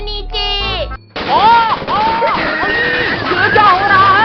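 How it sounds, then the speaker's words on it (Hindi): A loud cartoon-style blast bursts out after a short musical sting, followed by excited voices chattering and shouting over a busy comedy scene. "अरे ये धमाका कैसा?"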